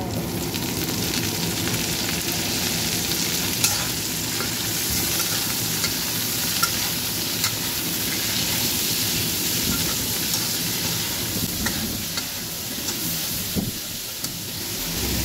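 String beans sizzling and frying in hot oil for Ilocano-style adobong sitaw, a steady loud crackle with occasional stirring clinks, no talking.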